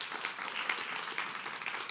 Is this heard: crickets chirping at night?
no